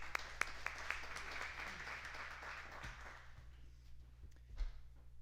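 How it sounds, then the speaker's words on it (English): An audience at a fundraiser event applauds, a soft wash of many clapping hands with a few sharper claps early on, fading away toward the end, faint and at a distance. "That applause really should be for Rebecca."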